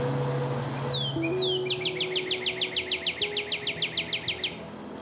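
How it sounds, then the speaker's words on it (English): Birds call from the trees, a few sweeping whistles followed by a fast, steady series of repeated chirps over a low background hum. "the sound of birds calling through the trees"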